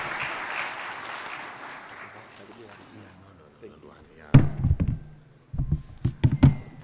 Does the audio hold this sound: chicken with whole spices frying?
no